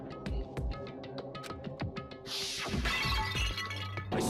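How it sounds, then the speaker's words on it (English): A Monokuma bottle from Danganronpa smashes over someone's head in a loud glass shatter midway, following a run of sharp clinks and clatter, with the breaking glass ringing out briefly at the end. "I grabbed the Monokuma bottle from the shelf and smashed it across her head."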